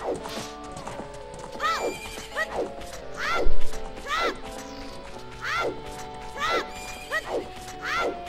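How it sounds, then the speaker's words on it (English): A horse in The Legend of Zelda: Ocarina of Time at Lon Lon Ranch whinnies repeatedly in rising, wavering calls over a steady clip-clop of hooves, with faint game music beneath and a few sharp knocks. "this horse looks like galloping around here"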